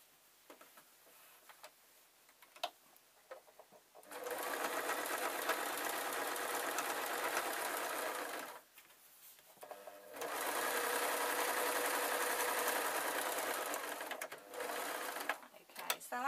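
A sewing machine stitching a ragdoll runs in two long, steady bursts with a short pause between, then a brief third run, after quiet ticking handling sounds.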